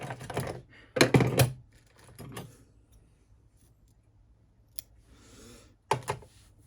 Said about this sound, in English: I'm going to trim away this little bobbin thread here.